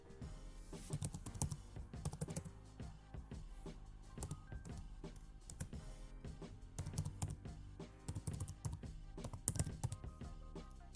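Password typed on a computer keyboard during a LinkedIn sign-up, with rapid, irregular clusters of soft key clicks at close range and brief pauses between bursts.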